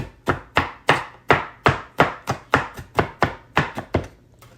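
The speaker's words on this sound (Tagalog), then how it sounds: "mag-iiwa tayo ng bawang" A knife chopping garlic on a board, about a dozen sharp, evenly spaced strikes up close, loud and with nothing else around them.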